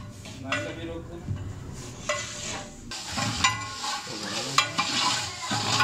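A large pot of wedding-style degi halwa, made with sugar and ghee for about 150 people, is stirred steadily with a metal spoon scraping and clinking against the pot, while a soft sizzle of frying runs underneath.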